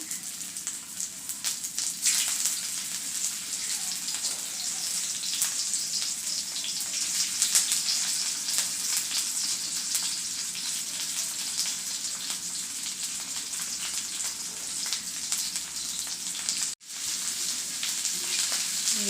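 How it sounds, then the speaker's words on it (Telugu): Ivy gourd pieces fry in hot oil for a dachshund-free, steady stretch: a loud, continuous bright sizzle with crackling pops throughout, briefly dropping out near the end before resuming, with no talking. "నూనె కాగినాక ఈ దొండకాయలను ఇంట్లో వేసుకోవాలండి నూనెలో మంచిగా వేగాలి"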